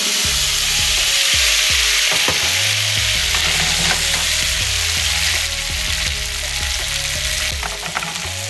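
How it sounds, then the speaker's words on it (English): Cool dried potatoes for potatoes O'Brien frying in hot oil, a loud close sizzle throughout with a low hum and scattered scraping and clinking of a utensil in the pan. "Got our cool dried potatoes into the hot oil."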